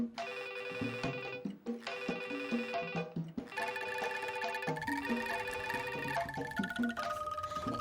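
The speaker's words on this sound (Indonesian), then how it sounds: "Apaan itu HP-nya Esi?" A mobile phone rings with a bright, repeating melodic ringtone that plays continuously and fairly loud, with a tone pattern that loops several times and no one talking over it.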